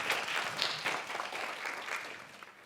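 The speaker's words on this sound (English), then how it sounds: "To his left, please applaud Reika KIRISHIMA," Audience applause at the Cannes 2021 press conference for Drive My Car, a brief steady patter of clapping from a modest crowd, continuous and fairly close.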